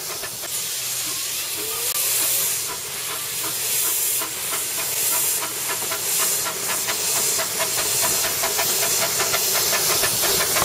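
Steam hisses loudly and continuously at the Lappa Valley Steam Railway in Cornwall, a broad, rushing sound with rapid rhythmic chuffing pulses layered through it, steady for the whole stretch.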